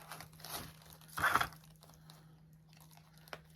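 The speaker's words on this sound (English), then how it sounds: "run the pointy scissors through your hat" Pointy scissors punch through a hat being made into a fall wreath, giving a brief crinkly crunch in the middle amid soft scattered handling rustles in a quiet room.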